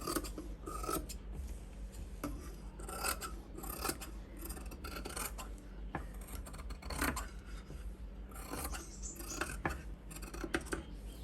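Scissors cut saree blouse lining fabric along the neckline during a tailoring job. The snips and rasping sounds come close, steady and fairly quiet, with no talk.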